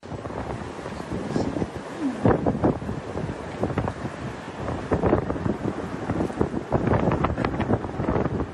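Strong hurricane-force wind roars and buffets the microphone in steady gusts, loud and close, with rumbling bursts throughout and no voices, in Zhambyl Region, Kazakhstan.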